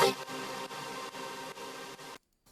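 The first part of a beat built from a Splice sample chopped in Fruity Slicer plays as a dense, noisy, filtered loop with regular pulses. It cuts to silence near the end, then briefly resumes. No one speaks.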